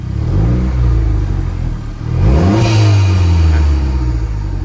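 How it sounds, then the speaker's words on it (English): An Aerial Atom 4 sports car engine revs up on a slope, the pitch climbing and holding in a loud, close, throaty rumble before easing slightly. "The revs build, so the coolant light stay on because we are on a slope, and then the revs drop."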